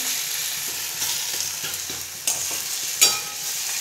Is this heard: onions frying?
yes